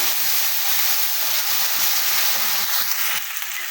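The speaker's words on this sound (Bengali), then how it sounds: "এবং জিরা বাটা মশলাগুলো খুব ভালোভাবে নেড়ে করে মিশিয়ে নিতে হবে" Ground cumin paste and spices fry in a hot pan while being stirred for a deshi chicken curry with potatoes, producing a continuous loud sizzle with soft scraping and bubbling beneath it.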